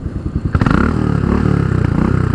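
A 2017 Royal Enfield Continental GT motorcycle engine cranks with rapid clattering pulses, then catches and settles into a steady, loud idle with a low rumbling rhythm.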